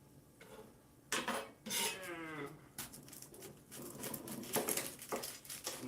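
Carrots tossed into an electric skillet in a hotel room clatter and patter against the pan in a few quick bursts of rattling, heard up close without speech.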